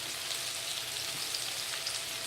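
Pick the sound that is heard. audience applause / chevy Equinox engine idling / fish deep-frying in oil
fish deep-frying in oil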